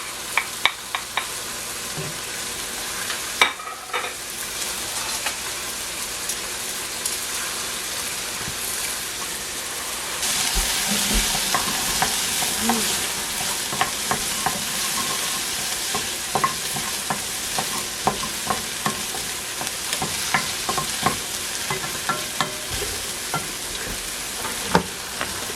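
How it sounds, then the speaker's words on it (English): Vegetables stir-frying in a pan for honey garlic chicken, with steady sizzling and frying that grows louder and denser midway, punctuated by sharp stirring clatters against the pan throughout. "Add in all my vegetables that they fry."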